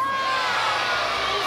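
A crowd of costumed children shouts and cheers together before a parade, a loud, dense burst of young voices lasting only a moment.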